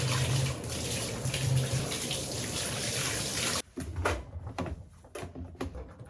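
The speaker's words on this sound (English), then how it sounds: "I'm gonna rinse all of them out and then wash them" Water sloshes and splashes loudly as shirts full of fabric softener are rinsed by hand in a collapsible bucket, a steady wash of noise that turns into choppier, separate splashes partway through.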